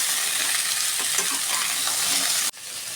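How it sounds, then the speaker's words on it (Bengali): Potato, drumstick and papaya pieces fry in a pan with a dense, even hiss of sizzling oil close by, broken by an abrupt cut near the end before the sizzle resumes. "আলু, সজনে ডাঁটা আর পেঁপে খুব ভালো করে একটুখানি ভাজা ভাজা করে নেব।"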